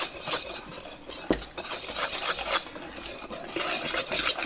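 Whole wheat banana bread batter being mixed in a bowl with a utensil, continuous scraping and clinking against the bowl with sharp knocks, close and fairly loud, no talk.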